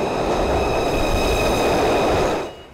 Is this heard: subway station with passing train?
yes